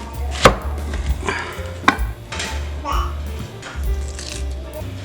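Several sharp knife chops through a large onion on a cutting board, spaced irregularly, close by, over a low background hum.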